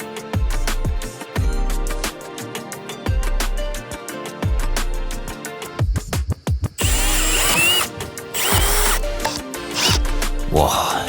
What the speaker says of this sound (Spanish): con esto vamos a convertir el taladro en una remachadora automática